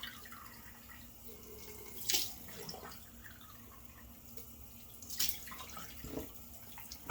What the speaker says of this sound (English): right now I'm going to turn the cold water on